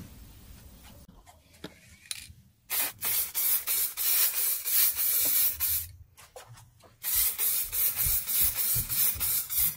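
Lacquer sprayed from an aerosol can onto repainted Vauxhall Tigra car wheels, loud close hissing bursts in repeated passes, a couple of long sprays separated by short pauses.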